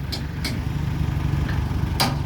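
A farm tractor's engine idles steadily with a low, even rumble while being loaded onto a vehicle, with a few faint clicks and knocks over the drone.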